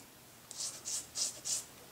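An X-Acto hobby blade scrapes flashing off a plastic part from a 1/2500 scale USS Enterprise B model kit in four short, crisp strokes, evenly spaced and close up in a quiet room.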